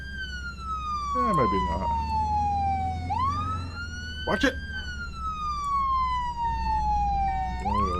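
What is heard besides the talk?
ambulance siren in video game Flashing Lights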